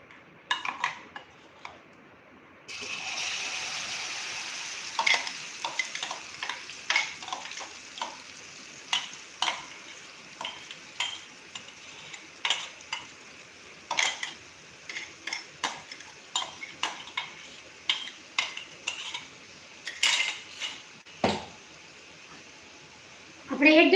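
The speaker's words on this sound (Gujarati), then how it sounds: "તેલ ગરમ થઈ જાય એટલે આપણે આ ચટણી પીસેલી છે એ એમાં ઉમેરી દેશું." Ground chutney stirred in hot oil for momos paratha, heard as a steady sizzle beneath repeated metal spoon scrapes and clinks against the pan, with no voices.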